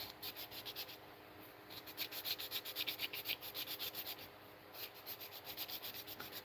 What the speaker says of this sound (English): That's the benefit of hand sanding.